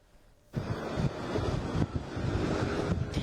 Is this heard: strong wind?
yes